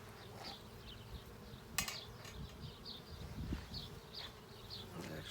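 Honeybees buzzing around an open hive during an inspection, a close, wavering hum with individual bees flitting past the microphone and a sharp knock of hive equipment midway.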